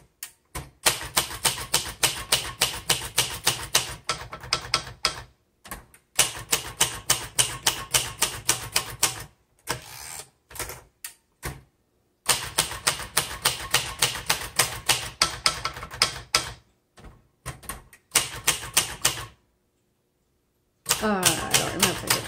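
A 1960s Royal Safari portable typewriter being typed on, fast runs of sharp mechanical keystrikes in steady bursts broken by short pauses and carriage returns, close and clear, ending in a brief ratcheting sound.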